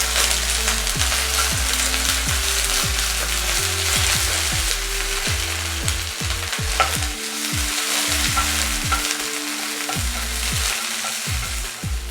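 Curry leaves are added to hot oil for masala fish fry and crackle with a loud, dense sizzle that carries on steadily, while low stepped musical tones play underneath.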